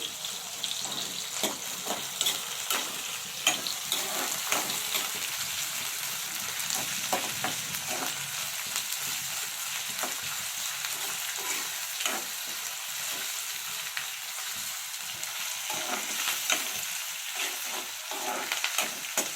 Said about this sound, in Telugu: వేయించుకోవాలండి